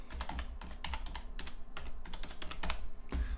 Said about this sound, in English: type in description.